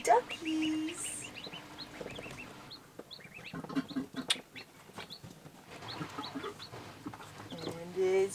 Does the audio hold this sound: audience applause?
no